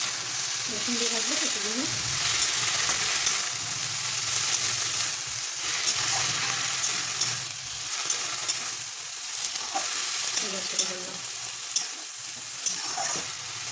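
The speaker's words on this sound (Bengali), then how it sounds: "মূলা শাক কাটা আছে এটা ভাজবো" Radish greens fry in a pan with a steady, close hiss of sizzling oil and occasional stirring. A few faint tonal sounds surface briefly.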